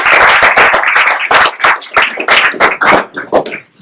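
Loud, close applause from a small group at a Resident Assistant information session, irregular overlapping claps that thin out and fade toward the end.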